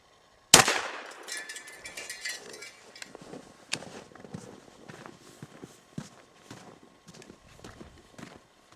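A single sharp, loud blast from a Remington 870 12-gauge shotgun fired at a propane tank outdoors, followed by a trail of faint scattered knocks and rustling.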